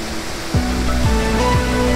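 Bokadkada waterfall near Virar, by Vajreshwari, pours with a loud, steady rush of falling water that runs unbroken throughout, with faint tonal sounds layered over the roar.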